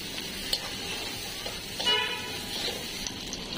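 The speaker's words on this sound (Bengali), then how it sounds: "দিয়ে দিলাম পরিমাণ মতো পেঁয়াজ কুচি, একটু ভালো করে ভাজা করে নিব।" Chopped onions frying in a pan, a steady soft sizzle running throughout with a few faint clinks over it.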